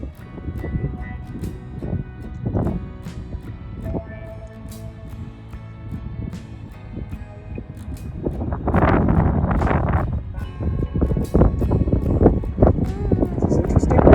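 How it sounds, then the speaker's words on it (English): Strong wind sweeping across the dunes of White Sands during an approaching sandstorm, a steady broadband roar that swells louder and rougher midway through, with buffeting gusts on the microphone. "This is what it's like to be in a sandstorm."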